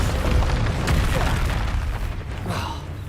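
Descendo spell in Hogwarts Legacy slamming an enemy down, a loud booming impact over dense, rumbling combat noise, with a sharp sweeping effect near the end.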